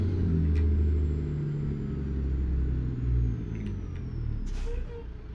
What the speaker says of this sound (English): Hey, the bus is turning.